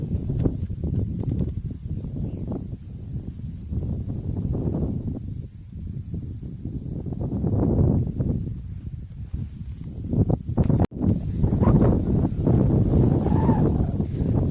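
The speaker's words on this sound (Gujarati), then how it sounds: "અત્યારે ફૂલ પવન ચાલુ થઈ ગયો છે" Strong wind buffeting the microphone in a continuous low roar across a farm field of chickpea crops, rising and falling in gusts throughout, with no clear voices.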